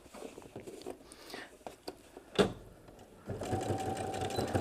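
A sewing machine runs an edge stitch along a 1/4 inch rolled hem on nicely weighted fabric, a steady mechanical whir starting near the end after soft handling noises and a sharp tap.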